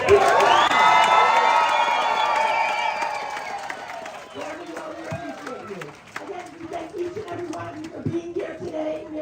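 A large crowd at a rally against antisemitism loudly cheers, whoops and applauds, the roar peaking at first and then thinning into scattered clapping and shouts.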